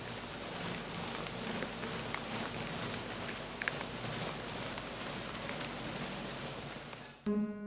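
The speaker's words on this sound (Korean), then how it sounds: "누에가 뽕잎을 갉아먹는 소리는 마치 봄비가 내리듯 서정적인 소리로" Silkworms chewing mulberry leaves make a dense, steady crackling patter like soft rain, continuous and close, ending in a brief louder tonal sound.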